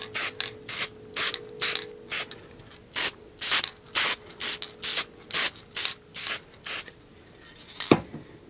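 Repeated short hissing bursts from a spray can of sole dye onto a shoe, about a dozen quick pulses in a steady rhythm, close by, ending with a faint clatter.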